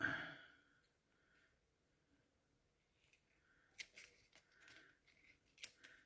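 A few short crisp snips of scissors cutting paper, quiet and close, with gaps of near silence between the cuts.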